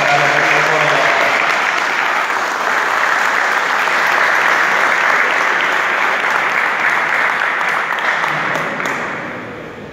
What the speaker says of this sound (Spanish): Un aplauso para la Peña de Córdoba.